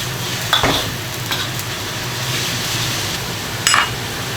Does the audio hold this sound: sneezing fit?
no